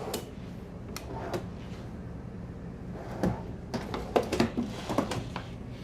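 Several drawers slide and knock shut in a quiet Newmar Dutch Star 4020 Class A motorhome, a few soft clunks early on and a busier cluster of clicks and bumps toward the end.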